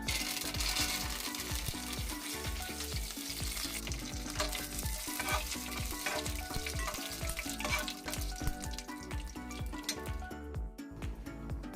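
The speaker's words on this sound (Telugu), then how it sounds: "లైట్ ఫ్రై అందులోకి రెండు కరివేపాకు రెబ్బలు వేసుకొని లైట్ ఫ్రై అయితే చేద్దామండి" Curry leaves and dried red chillies fry lightly in hot oil, crackling and sizzling up close as a spoon scrapes and stirs the pan. The sizzle thins out near the end.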